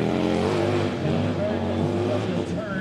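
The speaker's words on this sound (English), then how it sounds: "Just as you started to talk, it sounds like you started it up." A Harley-Davidson hill climb motorcycle with a deep-sounding engine runs steadily and loudly up close. Its low drone holds throughout, with voices talking over it.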